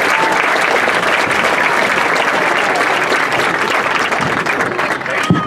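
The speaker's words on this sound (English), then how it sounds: "Give a big round of applause for Hudson." A high school football crowd at a night game gives loud, dense applause that roars steadily and close by for several seconds, then eases slightly near the end.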